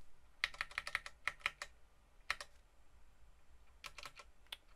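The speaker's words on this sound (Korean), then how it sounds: "키보드로 상하 좌로 움직이면 이렇게 미세 조정을 할 수가 있습니다." Computer keyboard keys tapped for fine on-screen adjustment while laying out a Unity game UI, with quick clustered clicks in short bursts, a lone press midway and a final flurry, fairly close and with no talk.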